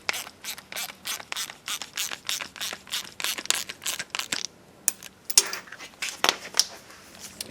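A hand ratchet clicks in rapid, steady bursts while snugging bolts on the plastic carburetor of a Yard Machines lawn mower, the close, sharp pawl clicks pausing briefly before a few slower, louder turns.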